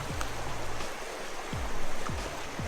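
A river runs steadily in the North Georgia mountains, a continuous broad wash of flowing water with no voices, and a few low dull thumps over it.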